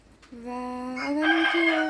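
A rooster crows nearby in a village near Fuman on a day of light rain, one long rising call with clucking fowl around it, while a voice says a few words at the start.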